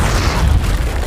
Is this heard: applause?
no